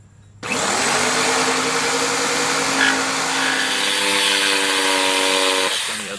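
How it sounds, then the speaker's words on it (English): An electric jigsaw cuts through a single piece of wood for a primitive Adirondack-style chair, a loud steady motor whine with a buzzing blade running about six seconds after a sudden start, close and without talk. "We'll use the jigsaw for the short sides."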